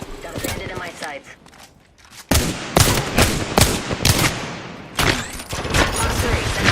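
Rapid bursts of video game gunfire crack out in a dense shooter firefight, quieter at first, then loud close volleys with sharp repeated shots through the rest.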